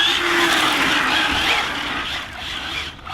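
An ARRMA Infraction 6S BLX 1/7 scale RC car spins and skids its cold tires on an early-morning run, a loud whining hiss of rubber and motor sustained for a few seconds before easing off at the end.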